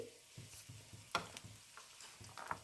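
Poppy seeds with cumin frying in a pan, a soft sizzle with scattered pops and crackles and light stirring scrapes, fairly faint and close, no voices.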